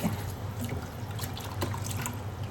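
Water pours and trickles over a raw duck being washed in a kitchen basin, a soft continuous splashing with small drips, fairly quiet and close.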